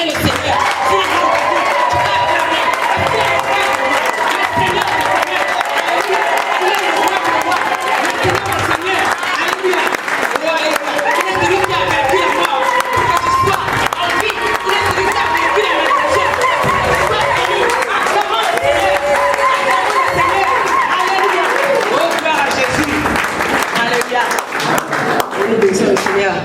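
A church congregation acclaims the Lord with sustained applause, cheering and crowd chatter that fill the hall at full loudness for the whole stretch, with voices shouting over the clapping throughout.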